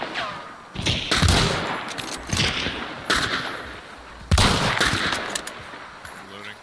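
Gunfire from the video game Hunt: Showdown, with several loud bursts of shots separated by short gaps, some echoing, mixed with thuds and faint player chatter.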